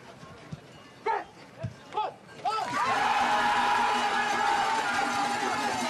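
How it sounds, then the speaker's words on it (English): A hometown crowd at a two-man bobsleigh world championship heat in St. Moritz breaks into loud, sustained cheering that swells and holds steady, following a few brief shouts and calls, with a commentator's voice over it at times. "It's always fun to hear the hometown crowd cheer for their favorite country"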